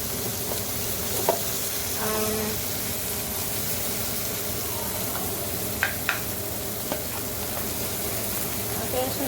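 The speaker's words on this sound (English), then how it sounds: "so now we're gonna mix our butter" Butter is mixed into a hot pan for chicken baked penne, giving a continuous hiss of frying with occasional stirring clicks and scrapes, moderately close and without voices.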